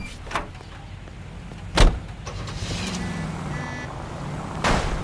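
Car engine in the video game L.A. Noire, a steady broadband rumble broken by a few sharp, loud thuds like a door or body impact, with no talking.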